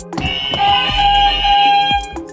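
A quiz game show buzzer sounds once, a loud, sustained electronic tone lasting about two seconds with no talk over it.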